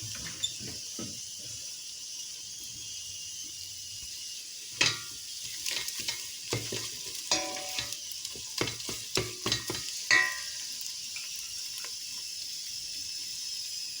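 Tomato paste frying with onions in a pan, a soft continuous sizzle broken by repeated scraping stirs and light utensil knocks in the middle stretch, close and fairly quiet, no voices.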